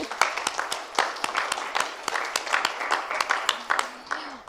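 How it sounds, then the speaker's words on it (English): An audience at the Hindu Youth Conference of the World Hindu Congress in Bangkok gives moderate applause, with distinct individual claps sounding in an uneven rhythm and a faint voice toward the end. "Yes, we can clap for them."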